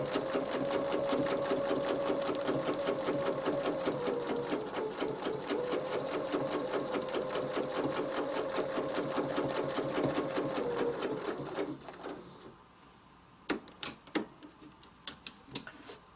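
A computerized embroidery sewing machine stitches out a quilted snowflake design with fast, steady needle ticking and motor hum, then stops near the end, leaving a few isolated clicks.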